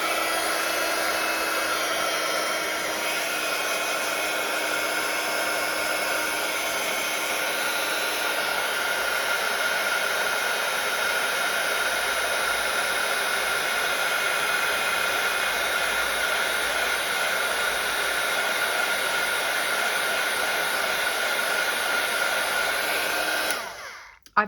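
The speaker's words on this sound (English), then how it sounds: "Just don't put your heat tool as close to the paper as I was putting it." A crafting heat tool blows hot air in a steady, loud, close whoosh with a constant whine, running unbroken for over twenty seconds before cutting off abruptly at the end.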